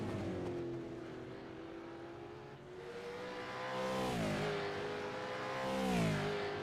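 V8 Supercar race cars accelerate hard at Watkins Glen, their loud engines climbing in pitch through repeated upshifts as they pass close by under steady track noise.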